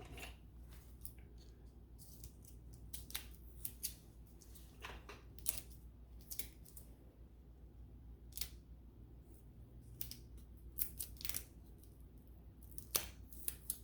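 Scissors cut through super glue tape while making a resin clutch purse: a series of quick, crisp snips and sticky crackles, scattered irregularly over a low steady room hum, quiet and close, without speech.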